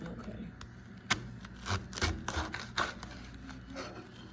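A sharp knife cuts food on a cutting board, giving several soft, close chops and scrapes at an uneven rhythm, moderately loud with a faint murmur of voices nearby.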